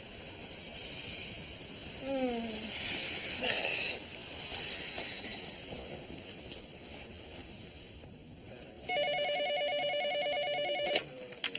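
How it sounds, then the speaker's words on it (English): A telephone rings in a quiet indoor room, a steady electronic trill starting near the end, clear and fairly close, with a soft hiss underneath. "There's your phone."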